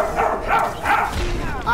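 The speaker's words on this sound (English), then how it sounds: "Holly, you gotta stop barking." A creature barks in Star Wars Jedi Fallen Order, with several short, loud yelping barks in quick irregular bursts, close up, mixed with a voice.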